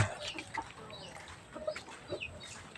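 Backyard chickens cluck and chirp close by in short, scattered calls over a low outdoor murmur, several birds sounding at once.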